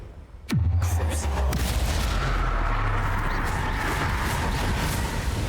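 A Confringo blast spell in the video game Hogwarts Legacy fires with a sharp, whooshing crack followed by a loud, deep boom, then a sustained rumbling roar that carries on steadily to the end.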